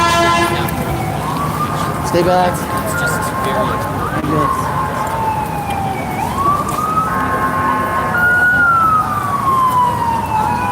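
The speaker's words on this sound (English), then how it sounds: "There's an ambulance." Ambulance siren wailing through stopped traffic in Denver, loud and close, with a sweeping rising and falling pitch, a short horn toot, and a brief spoken voice.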